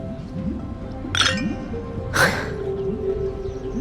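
Glasses clinking in a toast in Honkai Star Rail, two bright ringing clinks about a second apart, clear and close over soft background music.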